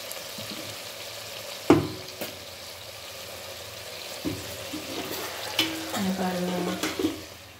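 Mint leaves sizzle in hot oil for a country chicken biryani, a steady frying hiss broken by a few sharp spoon scrapes and clinks against the pot, close and moderately loud.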